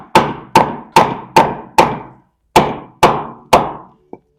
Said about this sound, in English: carefully tap it in until we can get it